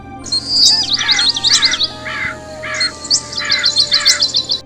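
A crow caws in two series of harsh repeated calls, each rattling cry followed by a string of rhythmic caws, loud and close with no talking.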